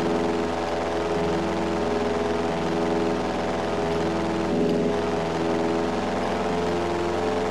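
A propeller airplane engine drones in GTA San Andreas on PS2, a loud continuous hum with steady harmonic tones lasting throughout, alone and without talk.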